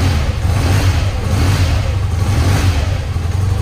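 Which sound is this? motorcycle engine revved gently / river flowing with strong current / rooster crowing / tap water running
motorcycle engine revved gently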